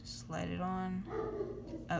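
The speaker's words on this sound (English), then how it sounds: "sorry if you can hear my dog in the background" A dog barks and yelps in the background while a person talks nearby, a couple of loud drawn-out vocalizations over quiet room noise.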